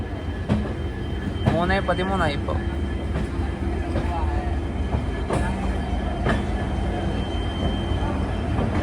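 Gurudev Express from Nagercoil pulls into Shalimar railway station in Kolkata at platform 2, a steady, loud rolling rumble with faint wheel squeals running throughout while someone talks over it.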